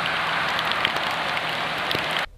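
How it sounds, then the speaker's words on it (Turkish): Heavy rain pours down in a steady, dense roar on the D100 highway over the Bolu Mountain pass in fog, loud and continuous with scattered drop impacts, then cutting off abruptly at the end. "D100 Karayolu'nun Bolu Dağı kesiminde sis ve sağanak ulaşımı olumsuz etkiledi."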